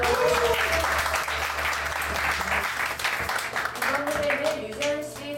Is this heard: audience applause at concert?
yes